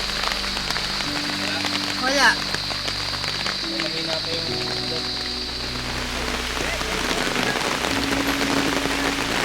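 Steady rain patters on a surface at a campsite in Quezon Province, a dense wash of drops, while a person says a few brief words partway through.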